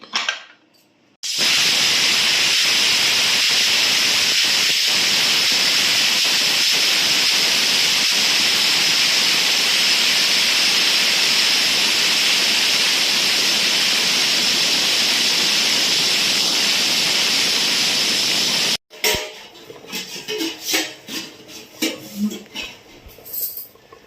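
A pressure cooker on the stove vents a loud, sustained steam whistle for about seventeen seconds while cooking mutton head curry. A short kitchen clatter follows, with faint talk and clinks.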